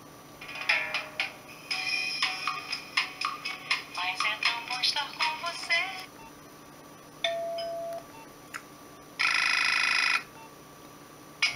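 Nokia 1200 mobile phone playing ringtones: a fast sequence of bright electronic beeps and melodic tones, then a pause, a sustained single tone, and a final buzzy held chord, clear and close.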